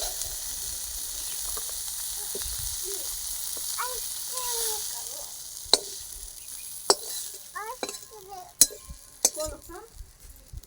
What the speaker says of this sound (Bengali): মাছটা ভাজা মাছটা খুব বেশি ভাজবো না নামিয়ে ফেলবো